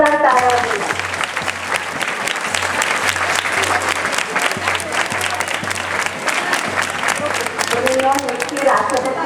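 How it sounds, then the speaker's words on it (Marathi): Loud, sustained applause from a school audience at an Independence Day celebration in a Pune girls' high school, dense clapping running throughout with a low recurring hum underneath. "आपण त्यांच्यासाठी जोरदार टाळ्या वाजवूया."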